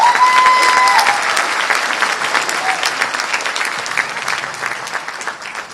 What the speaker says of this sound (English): So let's give a big round of applause to Obak.